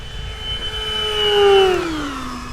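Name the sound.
FMS Maule RC bush plane flying at top speed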